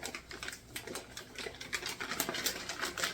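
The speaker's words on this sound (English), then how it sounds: "rip open this butcher paper" Butcher paper wrapped around ground deer meat is ripped open by hand, making a continuous crinkly tearing and rustling with quick crackles for a few seconds, close up and without talking.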